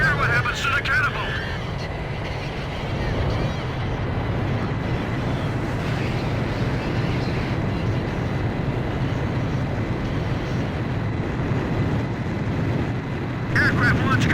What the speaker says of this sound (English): Aircraft launch confirmed.